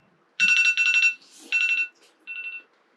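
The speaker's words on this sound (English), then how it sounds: "How long has an alarm just been part of the audio?" An electronic alarm beeps in the background during a podcast recording, with three or four short, bright, pulsing tone bursts separated by brief gaps, fairly clear and with no talk over it.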